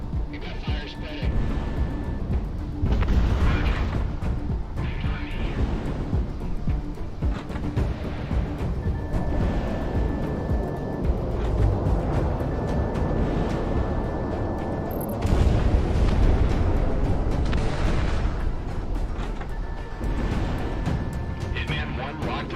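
Missile explosions and gunfire rumble through a Project Wingman air-combat battle, a dense, loud stream of booms and blasts with bursts near 3, 10 and 15 seconds, while radio chatter talks over the action.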